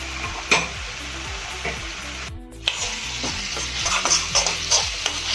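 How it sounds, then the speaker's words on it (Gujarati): Brinjal gravy frying in a pan while being stirred steadily, with continuous close sizzling and irregular scraping strokes, a brief lull midway, and no voices. "આપણે આ ગ્રેવીને 5 મિનિટ માટે હલાવી અને બરાબર કૂક થવા દઈશું."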